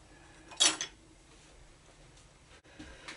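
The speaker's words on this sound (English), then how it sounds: "I'm just going to switch over to a different palette knife here." A metal palette knife clinks against a paint palette while oil or acrylic paints are being mixed, one bright clatter of contact followed by quieter handling sounds, nearby and fairly soft.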